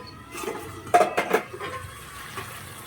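A metal lid comes off a pot of vegetables, fish and eggplant cooking on the stove, a short clattering clink of metal on metal against quiet kitchen background.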